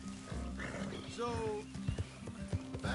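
Horse hooves clop in a galloping rhythm in Red Dead Redemption 2, with whinnies and snorts over a steady low game hum and a voice talking throughout.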